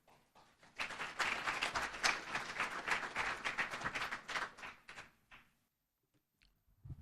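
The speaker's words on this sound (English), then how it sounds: "thank you for the applause" An audience applauds at a State of the Community event, a dense burst of clapping that builds quickly, holds for about four seconds, then thins out and fades to near silence.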